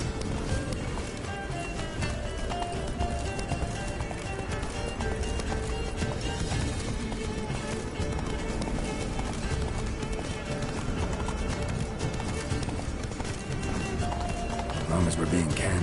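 Roach, Geralt's horse in The Witcher 3, gallops with continuous, steady hoofbeats under ongoing game noise, and people talk over the sound.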